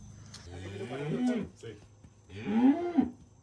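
A young female calf moos twice at close range, each call a drawn-out, rising bellow, with a short pause between the two calls.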